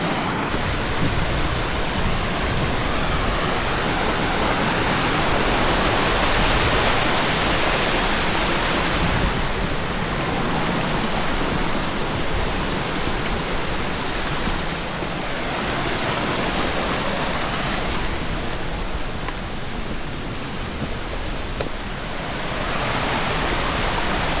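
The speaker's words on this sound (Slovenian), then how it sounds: "Tlele, kar čez potok treba je peš." Mountain stream rushing steadily near a via ferrata route, a loud continuous broadband wash of flowing water close by with no talk.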